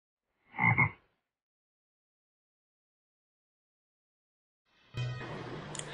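A frog gives a single short, close croak in an animated fable about a frog and a scorpion, followed by silence and then a low, steady rumble toward the end.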